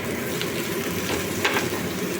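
Steady, loud sizzling of tomatoes added to fried potatoes and onions in a hot pan, with a few brief spikes of crackle partway through; no voices.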